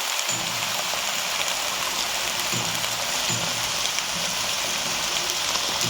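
Mixed vegetables with green chillies frying in a pan for veg chowmein, a steady close crackling sizzle like rain that holds evenly throughout, with no talk.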